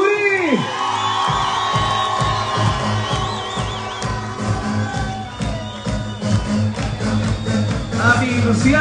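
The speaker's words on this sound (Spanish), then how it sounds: "Y un fuerte aplauso a Carmen de Chucurí." At the Señorita Carmen de Chucurí 2024 pageant coronation, the audience cheers and whoops over loud, rhythmic music with a thumping beat. The crowd noise stays steady under the music throughout.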